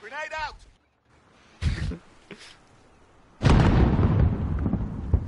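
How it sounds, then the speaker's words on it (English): A grenade explodes in the shooter game Warzone Rebirth, a loud, broad blast that rumbles for about two seconds. An earlier, shorter burst comes before it, and a brief voice is heard at the start. "I thought I could get him with a grenade"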